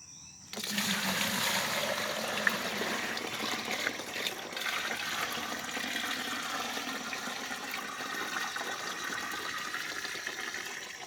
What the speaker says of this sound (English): I think that's sediment that I'm pouring out.